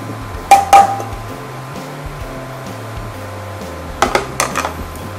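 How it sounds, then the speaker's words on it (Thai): A metal utensil scoops clean-style Thai khua kling stir-fry from a pan onto a plate, giving two clusters of bright clinks and scrapes against cookware with quiet pauses between. "ตักคั่วกิ้งของเราครับนี่ครับใส่จานครับ"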